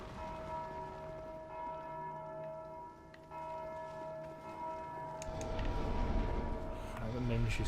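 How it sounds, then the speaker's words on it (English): Bell tolling in Dark Souls 2, ringing with long sustained resonance through a continuous ambient game soundscape that swells louder toward the end. "I believe enemies can ring the bell"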